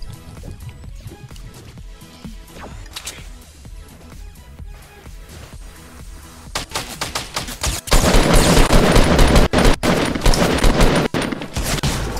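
Gunfire in Fortnite on a mobile Android device starts quietly over game sounds and music, then turns into loud, dense rapid bursts in the second half.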